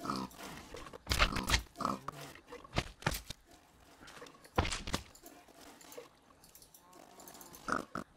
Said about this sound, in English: So then let's get the pigs.